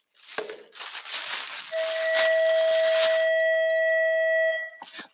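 A school bell rings in a school shop: a loud, steady electronic tone that sustains for several seconds before cutting off, with no voices.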